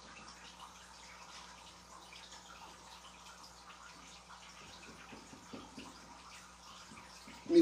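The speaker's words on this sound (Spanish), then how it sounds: "Aquí yo tengo mi fuente carísima." Water runs steadily from an expensive decorative fountain bought in Spain, a soft continuous splashing and trickling held at a low, even level with no talk, ending in a brief louder knock.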